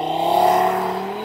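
An Audi TT RS Iconic Edition launches hard from a standstill with a loud, close, strained engine roar that holds its pitch through a brief burst of acceleration.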